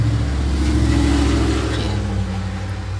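A car drives through a snowy park in winter, its steady mid-pitched engine drone close and continuous, with a slight revving swell early on and a gradual settling toward the end, no voices.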